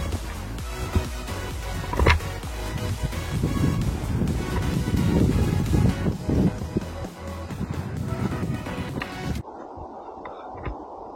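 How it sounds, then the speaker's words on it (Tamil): Strong wind rushes and rumbles across an open rooftop overlooking a city, a continuous loud roar with gusts that suddenly cuts to a quieter hum near the end. "காத்து சவுண்ட் கேக்குதா?"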